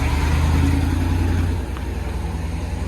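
A big truck's engine runs loud and steady, a low rumbling drone that eases slightly partway through as it pulls away.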